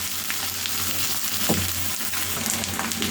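Vegetable bhaji fries in oil in a pan, giving off a dense, steady sizzle close up, with a few soft knocks of stirring and no one speaking.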